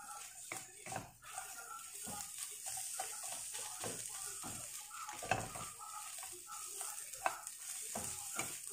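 Onions stir-fry in a pan for spicy Korean noodles, a soft continuous sizzle with repeated scraping and tapping strokes of the utensil, fairly faint and close.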